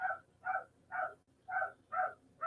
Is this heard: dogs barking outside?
yes